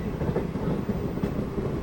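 Steady low rumble of a passenger train running on the rail line from Amalner toward New Ashti in Beed, heard from aboard with continuous rolling wheel noise and faint clacking, no voices.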